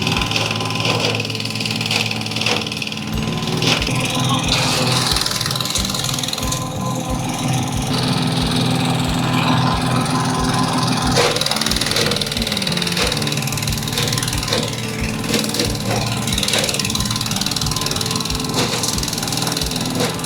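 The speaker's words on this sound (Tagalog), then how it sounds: "ang mga gulay at prutas, pati na kahoy, ay ipinapasok sa shredder ng RU Founded Machine Shop Corporation" A shredder machine from RU Founded Machine Shop Corporation chews through vegetables, fruit and wood for compost, giving a steady, loud mechanical engine drone with grinding and knocking throughout, no speech.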